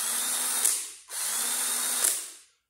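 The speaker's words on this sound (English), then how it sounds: "That's not the way that drill normally sounds when it's under full power." A cordless drill running on an old, weak battery pack that no longer fully charges whirs in two short bursts, its motor sounding thin and strained, each spin winding down at the end.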